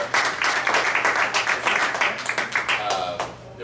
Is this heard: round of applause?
yes